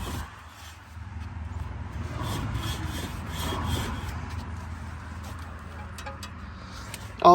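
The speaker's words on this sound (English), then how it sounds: "Let's see if it scrapes. They're still scraping." A low, continuous metallic scraping drone from a spinning brake rotor on a Range Rover Sport HSE 4.4L, rising slightly midway and holding steady, ending with a brief clunk.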